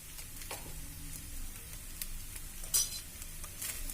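A potato cutlet mixture is stirred in a pan, giving a soft, steady scraping and sizzling texture with a few light utensil clicks and one sharper knock near the end, with no voices.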